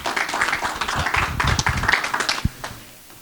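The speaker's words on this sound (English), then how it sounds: "Big round of applause" Audience at a community sustainability event clapping, a dense burst of applause from the crowd that thins out and fades over a few seconds.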